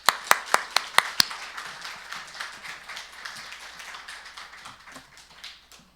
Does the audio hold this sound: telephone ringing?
no